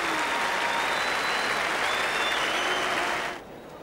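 Sustained applause from spectators at a cricket Test in Australia's match against Pakistan, greeting Mark Taylor's century; a steady, dense wash of clapping that holds loud before thinning abruptly near the end.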